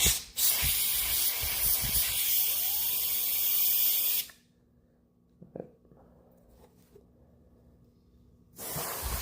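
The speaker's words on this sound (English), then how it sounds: "I'm blowing the fans out" Compressed air blasts through the fans of an overheating gaming laptop, opened up for cleaning: a loud, steady hissing spray of about four seconds, then near-quiet with small clicks, before another burst starts at the end.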